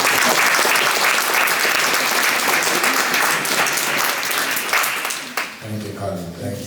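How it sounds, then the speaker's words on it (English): An audience breaks into loud, sustained applause that carries for several seconds before fading, and a voice begins speaking near the end. "give a big round of applause for Mr."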